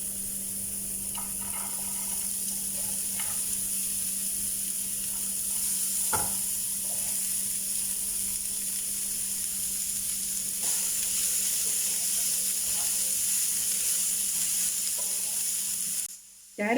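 Chopped carrot frying with onions in a pan, a low steady sizzle running throughout with a few faint stirring clicks and scrapes, quiet and close, with no voices.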